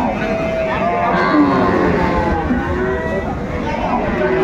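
Cows low in drawn-out calls at a busy cattle market in Aftabganj where cows and calves are being sold. Loud nearby crowd chatter and bargaining run constantly underneath.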